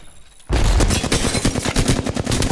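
After a near-silent half second, loud rapid gunfire from Apex Legends erupts and keeps going, a fast volley of close, punchy shots.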